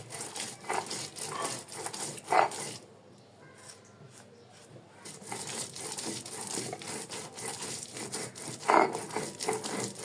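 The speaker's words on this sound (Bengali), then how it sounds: "এখন আগে পেঁয়াজ আর রসুনগুলো পিষে নিচ্ছি।" Onions and garlic are ground into a paste by hand, giving quiet, irregular rubbing and crushing scrapes with a couple of sharper knocks and a brief pause partway through.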